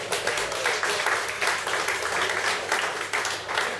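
An audience at a poetry reading claps and cheers after a performance, a dense, continuous burst of applause from many hands, close and loud throughout.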